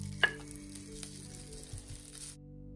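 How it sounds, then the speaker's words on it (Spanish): Prawns sauté in oil in a pan with a soft, even sizzle and a sharp click near the start, quiet and close, before the sound cuts off. "Vamos a saltear también las gambas."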